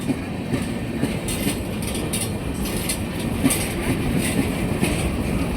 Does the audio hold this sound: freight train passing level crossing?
yes